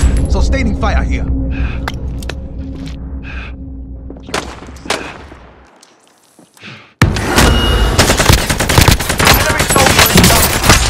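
Machine gun fire in Call of Duty Warzone on Rebirth Island rattles in loud, dense bursts. It is broken by a brief lull, then resumes as a sustained, heavy barrage, with a voice speaking over the game sounds.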